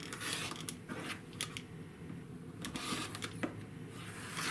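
Quilt fabric units for a Broken Dishes block being trimmed along a ruler, faint close snips and soft cutting clicks over a quiet room hiss, with no talk.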